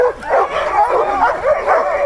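Sled dogs about to start a run, loud nearby yipping and whining barks packed closely together in excited bursts.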